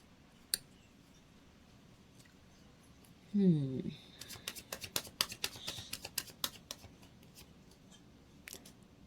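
Tarot cards shuffled and drawn one after another in a quiet room, a rapid run of crisp snapping and flicking clicks following a brief soft rustle, close and fairly loud, with an isolated tap near the start and end.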